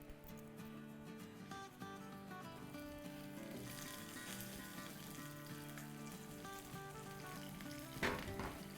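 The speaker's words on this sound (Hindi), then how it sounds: "अब हम इसमें अपनी मिर्चें डाल देते हैं।" Green chilies sizzle and fry in hot spiced oil with a five-spice tempering for a gram-flour chili pickle, a steady close crackle under background music with no talk.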